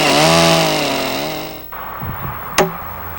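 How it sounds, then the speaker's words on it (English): A chainsaw rips through a log post to cut it to length, running loud and steady with a falling whine for over a second before cutting off, then a few light knocks and one sharp clack follow. "Cut the post to length."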